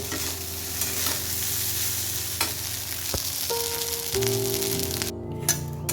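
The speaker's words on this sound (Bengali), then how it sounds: "এবার এটাকে ভালো করে ভেজে নিব" Eggs fry with onion, tomato and a little turmeric in a home kitchen pan, making a steady close sizzle with a few scraping strokes, then a brief clatter and a tonal hum near the end. No one speaks.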